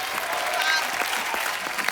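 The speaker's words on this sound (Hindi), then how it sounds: "एक बार बच्चा के लिए जोरदार तालियां," A television comedy show's studio audience breaks into dense, sustained clapping, loud and close, with a voice briefly audible underneath.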